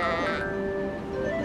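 Sheep bleating in the video game Harvest Moon The Winds of Anthos, a single short wavering call heard close and clear over quiet game sounds.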